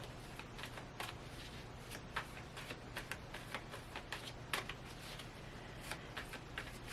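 Tarot cards being shuffled, soft repeated riffling and flicking bursts at an even pace, fairly quiet and close with no talking.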